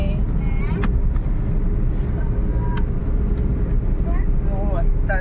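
Steady road rumble heard from inside a family car driving to a temple on a rainy, green roadside route, with a constant low engine and tire drone and a few brief sounds over it.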